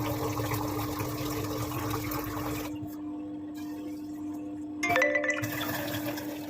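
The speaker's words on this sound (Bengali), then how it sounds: "ওই বোতলগুলো সব ভরা হয়ে গেল" Bottles being filled with water from a tap or pump, a steady broadband gush with a constant hum beneath, dropping off midway then surging back briefly before settling.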